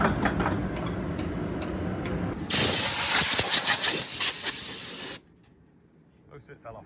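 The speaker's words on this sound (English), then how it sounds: "We're going to blow it out with the combine airline because it's pretty long." Compressed air from a combine's airline blasting out a dusty digger radiator: a loud, close hiss that bursts on after a stretch of engine noise, holds for about three seconds, then cuts off abruptly.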